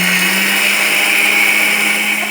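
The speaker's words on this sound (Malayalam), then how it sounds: "ഈ ആവശ്യത്തിനുള്ള തേങ്ങയും കുറച്ച് ജീരകം, ഒരു 1/2 സ്പൂണ് ജീരകവും കൂടെ നമ്മൾക്ക് അരച്ചെടുക്കാം" A mixer grinder runs at full speed grinding coconut and cumin, giving a loud, continuous, close motor whir and whine that holds steady throughout.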